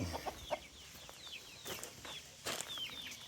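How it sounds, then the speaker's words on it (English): Chickens cluck and chatter softly nearby, with scattered short calls and a few brief rustling bursts in a quiet outdoor setting. "let's go over here and check on these chickens real quick"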